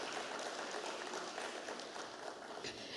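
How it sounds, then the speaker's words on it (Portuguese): Audience applause at an academic conference session in Portuguese, following a presentation on revising the Constitution of Cabo Verde; a steady, dense wash of clapping from a room full of people, fairly faint and continuous throughout. "Mais uma salva de palmas para esta apresentação."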